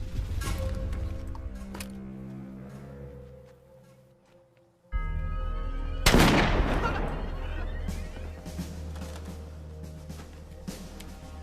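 Gunfire from a war film scene, with loud bursts and a heavy blast around the middle set against a rumbling orchestral score that fades before returning.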